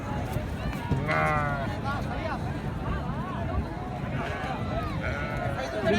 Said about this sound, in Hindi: इस तरफ भी दुम्बे खड़े हैं।